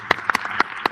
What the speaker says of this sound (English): So we want to give a round of applause again to our panelists.